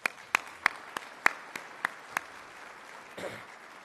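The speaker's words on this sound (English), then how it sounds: "Let's give that a round of applause." A few scattered, sharp claps from an audience at the Ex-Im Bank annual conference, about eight distinct hand claps spaced unevenly over a few seconds, fairly faint and in a quiet room, ending with a soft rustle.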